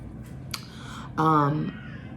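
An 11-month-old baby lets out a short, loud wail with a few fussy whimpers before it, all fairly close against a steady background hiss.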